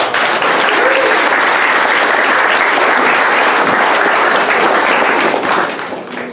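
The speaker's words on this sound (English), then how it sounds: "stand and be recognized with a round of applause" Loud, sustained applause from a sizable crowd at an Eagle Scout Court of Honor, steady throughout and tapering slightly at the very end.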